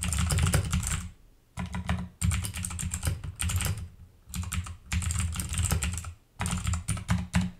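Fast, close clatter of keys as text is typed on a computer keyboard, coming in steady bursts broken by brief pauses, with no voices.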